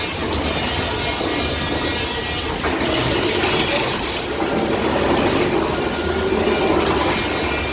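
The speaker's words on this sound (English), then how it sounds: "Holy smokes, is that a train?" A theme park ride train rumbles past at Universal Studios, a loud, steady, broadband roar with rushing, rattling noise that swells slightly, with no talking.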